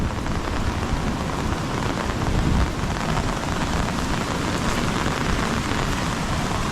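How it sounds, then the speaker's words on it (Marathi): Heavy monsoon rain pours down on a Konkan village beside the flooding Kajali river, a dense, steady roar of downpour that stays loud and unbroken throughout, with no voices. "सकाळपासून नुसता धो पाऊस पडतोय."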